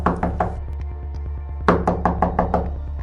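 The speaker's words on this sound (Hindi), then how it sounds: "तभी फिर से किसी ने दरवाजा खटखटाया" Someone raps on a house door in a Hindi ghost story, two bursts of sharp knocks, three quick ones then a pause and about six more, loud and close over a low background hum.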